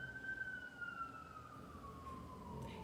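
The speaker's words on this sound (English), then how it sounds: "Hear the sirens." A single distant siren wails faintly with a slowly falling pitch, heard over a low background hum with no talking.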